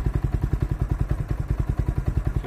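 An old motorcycle engine idles after a cold start, having sat unused for about ten days, with a steady, rapid thumping beat that stays close and even throughout, and no voices.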